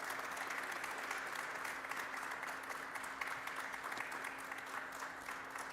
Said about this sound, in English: Ladies and gentlemen, please give a warm welcome, a warm applause to the team here